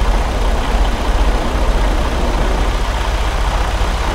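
A Freightliner Cascadia truck engine idles steadily in American Truck Simulator, a loud, low, even diesel rumble with a constant throbbing texture and no talking.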